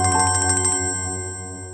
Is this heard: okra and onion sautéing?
no